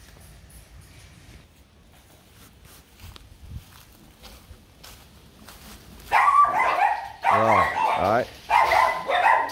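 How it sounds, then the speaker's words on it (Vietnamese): Rottweilers at a breeding kennel in Kon Tum break into loud, close barking after a quiet stretch of footsteps and a few spoken words, with several dogs barking in overlapping bursts. "Khi mà vào khu vực xem chó này thì chúng ta sẽ nghe thấy tiếng chó này nhiều nhá."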